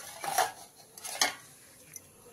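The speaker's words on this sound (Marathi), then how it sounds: "हे ह्याच्यात आपण घालून घेऊ हादग्याची फुलं, सगळं चांगलं मिक्स करून घेऊ आपण" Utensil scrapes and light clinks against a bowl as hadga flowers are mixed into soaked batter for crispy fritters, several soft strokes with brief pauses between them.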